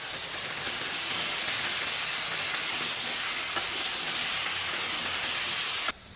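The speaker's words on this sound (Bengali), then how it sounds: "এবার কড়াইতে তেল দিয়ে পেঁয়াজ আর কাঁচা লঙ্কা কুচি দিয়ে দিলাম" Chopped onions and green chilies fry in oil in a wok, giving a dense, even hiss that holds steady throughout and then cuts off abruptly at the end.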